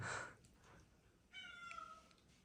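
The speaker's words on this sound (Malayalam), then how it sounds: "ഒരു പൂച്ച കുഞ്ഞ് കരയുന്നുണ്ടല്ലോ" A young kitten meows several times at a family Vishu gathering in Kerala, soft, thin cries heard from a little distance against quiet background noise.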